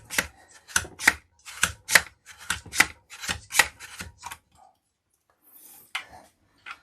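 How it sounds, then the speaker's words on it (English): A knife slices down through a block of cheese set in a holder, giving a quick series of about ten crisp cutting strokes at a steady rhythm, close and fairly loud, then a brief pause and a last stroke. "So I'm going to continue to cut up the cheese"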